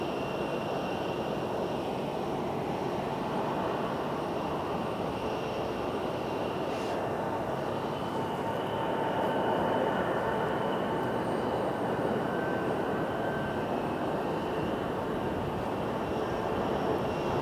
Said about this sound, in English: 754 UW now taking their stab at runway 26